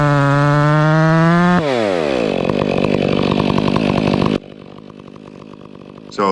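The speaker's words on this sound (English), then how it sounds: "So the chainsaw I'm using is a Stihl 500 with a 32-inch bar" A Stihl 500 chainsaw with a 32-inch bar and skip-tooth square-ground chain bucks a felled tree for firewood on a farm, loud and close: a high revving whine drops under load into a steady rough cutting roar, then settles to a lower idle before revving again.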